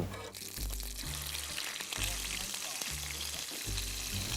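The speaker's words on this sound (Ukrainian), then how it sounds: "Посмаж мені вареника." Oil sizzles steadily in a pan as dumplings fry. A low, rhythmic hum and occasional voices run beneath the constant frying.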